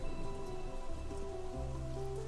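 Steady rain patters on surfaces in the video game Everlasting Summer, a continuous close hiss of drops layered with soft background music tones.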